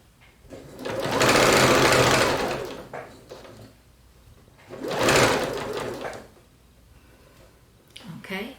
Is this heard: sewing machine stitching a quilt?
yes